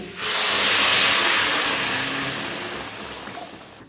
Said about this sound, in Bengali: এর মধ্যে ঝোলের জন্য দিয়ে দিচ্ছি গরম জল